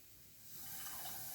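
Tap water runs into a cooking pot for sweet potato dal, a soft, steady hiss of pouring that gradually swells slightly louder over a brief moment with no voices.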